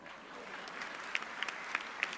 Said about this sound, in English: You could clap for that one.